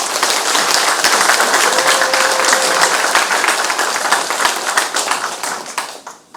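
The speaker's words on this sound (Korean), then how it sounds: "최지영 부수님께 큰 박수로 박수 주시기 바랍니다" Loud, sustained audience applause at a veterans' day ceremony, a dense wash of clapping close by that slowly fades toward the end.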